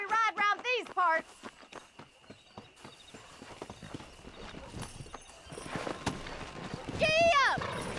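Horse hooves in the Red Dead Redemption western game: a near, steady clip-clop of hoofbeats picking up pace, with a horse whinnying loudly at the start and again near the end, and faint voices under the riding.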